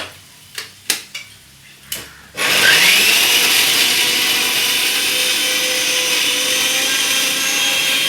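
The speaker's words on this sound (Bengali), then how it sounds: "এই যে বরবটিটা যেটা আমি সেদ্ধ করলাম সেটাকে এই যে জারে পিষে নিচ্ছি" A mixer grinder jar grinding boiled yardlong beans: a few clacks of handling, then the motor kicks on into a loud, steady high whirring grind that holds to the end.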